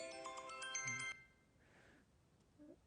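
A telephone ringtone plays a bright, repeating electronic pattern for about a second in a quiet room at a monastery, then cuts off, leaving faint background hiss and a brief soft sound near the end.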